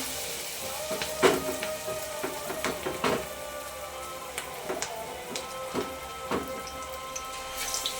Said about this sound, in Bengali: এবার তেলের মধ্যে লঙ্কার চপ